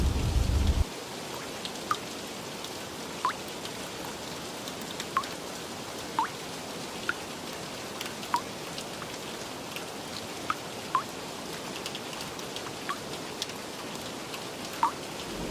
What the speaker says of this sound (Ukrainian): Яремчина зустрічає дощем.